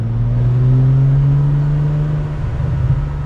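A Ferrari 456M GT Scaglietti's V12 engine hums while driving, a smooth, steady low drone heard from inside the car, rising slightly in pitch then easing, with no talk over it.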